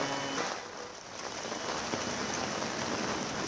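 Dense, steady heavy rain pours down continuously in Bengaluru, a loud broadband hiss with no voices or breaks.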